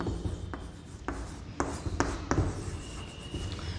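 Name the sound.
writing a number name by hand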